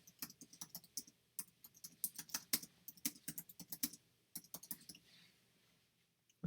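Quick bursts of keystrokes clatter on a computer keyboard as a blog post title is typed, light clicks falling in uneven runs with short pauses between them, close and fairly soft.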